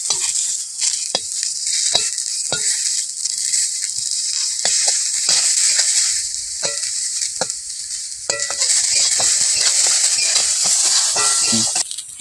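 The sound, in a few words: peanuts and raisins lightly frying in a pan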